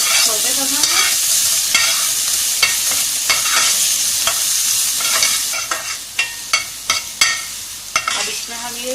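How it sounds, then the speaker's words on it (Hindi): Onions sautéing in a pan for chicken lasagna, a bright steady sizzle with spatula stirring, then a run of crisp, rhythmic metallic taps against the pan near the end, close and loud, with no one talking. "प्याज को हमें ब्राउन नहीं करना, बस सौटे करना है।"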